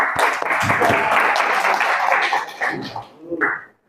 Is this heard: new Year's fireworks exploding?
no